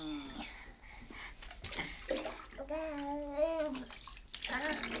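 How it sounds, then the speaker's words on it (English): Water splashes and sloshes in a bathtub while a child plays in the bath, intermittent close splashing mixed with a child's babbling and vocal sounds. "It's like water's pouring. I better splash."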